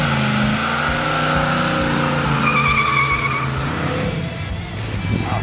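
A Pontiac GTO Judge muscle car growls hard under acceleration, its deep engine roar layered with squealing, skidding tires, loud and close and fading slightly toward the end.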